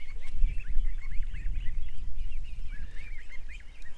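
Geese honking and ducks calling outdoors in a farmyard, a steady chorus of repeated nasal honks at moderate distance over a low rumble of background noise.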